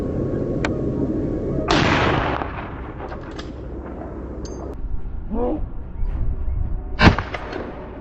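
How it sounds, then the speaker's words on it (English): Gunshots ring out during a wild boar hunt, several sharp cracks scattered among rustling and outdoor noise, with one louder shot near the end. "Soon after, gunshots rang out, signaling another successful attack."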